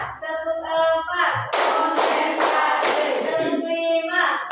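A group claps together in quick counted bursts of rhythmic beats, with voices heard talking before and after the clapping.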